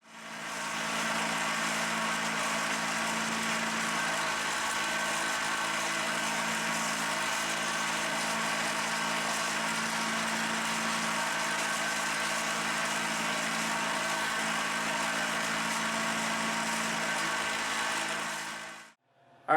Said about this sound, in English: I'm going to go ahead and give this a buffing and see how this finish turns out